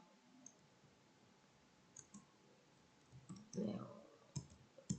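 A computer mouse clicks a few times on a desk while running ARCH/GARCH tests in Stata, the sharp ticks faint and scattered over a quiet room background.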